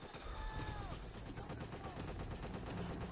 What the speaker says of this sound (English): Someone's still sniping in one of these trees.